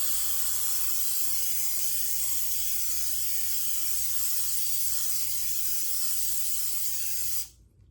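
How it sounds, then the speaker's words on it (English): Lysol disinfectant aerosol sprayed steadily onto the soles of dirty shoes, a loud, continuous close-up hiss lasting several seconds before cutting off abruptly. "I'm gonna do another layer of this Lysol disinfectant spray on the bottom of my shoes"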